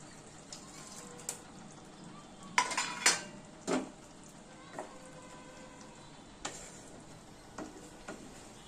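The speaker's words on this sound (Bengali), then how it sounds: "এবার পনিরগুলো দিয়ে দিই।" Paneer pieces drop into a pan of masala while restaurant-style paneer masala cooks at home. There is a cluster of loud clattering knocks against the pan, with lighter clinks before and after over a soft, steady sizzle.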